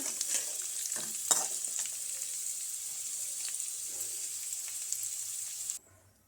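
Steady hiss of chickpeas frying in a pan, with intermittent scraping and stirring clicks throughout, ending abruptly.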